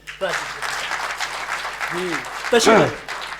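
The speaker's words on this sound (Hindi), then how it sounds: "जोरदार तालियों से" An audience applauds at an All India Mushaira poetry recital in Ludhiana. Steady, fairly loud clapping runs throughout, with voices calling out over it.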